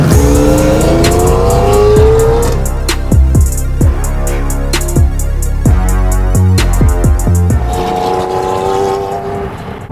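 Rear-wheel-drive Lamborghini Murcielago pulling away on a late-night Los Angeles street, its engine revving loudly and close, with sharp bursts and crackles as it accelerates off, cars and crowd noise around.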